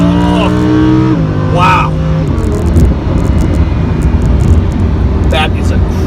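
A Lamborghini Huracan drops gears and accelerates hard, its engine revs climbing in loud rising sweeps that reset with each shift. The roar stays close and dominant, and a voice exclaims over it.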